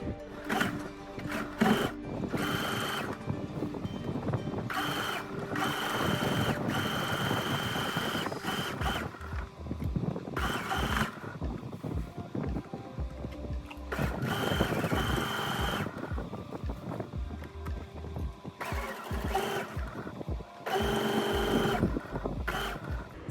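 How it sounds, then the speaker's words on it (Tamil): Sewing machine stitching along a 5.5-inch kameez hem, running in steady whirring bursts with short pauses between runs, close and moderately loud with no talk. "ஸோ இங்கேருந்து நான் அப்படியே ஸ்டிச் பண்ண போகிறேன்."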